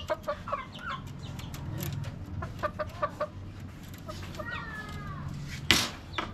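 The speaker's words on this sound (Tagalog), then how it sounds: "Yan, ito yung nanay ng mga sisiw." A mother hen among her chicks, soft repeated clucks and scattered chirps close by over a low background murmur, with a sharper burst of noise near the end.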